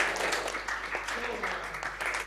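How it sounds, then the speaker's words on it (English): An audience at a techathon event breaks into a dense wash of steady applause, close and continuous, with a voice talking over it. "A big applause to all of you,"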